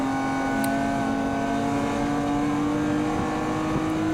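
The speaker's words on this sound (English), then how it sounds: "Now you'll hear me holding the revs all the way to the fuel cut here" A BMW E36 325is race car's M50 engine holds a steady, loud, buzzing drone at high revs, with the pitch staying nearly constant throughout and no talk over it.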